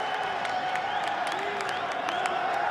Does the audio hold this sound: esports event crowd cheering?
yes